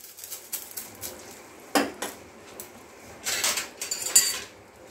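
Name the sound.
tempering poured into lentil dal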